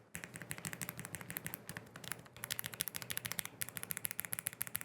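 Quick, steady typing on a NuPhy Air 96 V2 low-profile mechanical keyboard fitted with Lofree switches, crisp clicky keystrokes in rapid, slightly uneven bursts with one brief pause, close and clear.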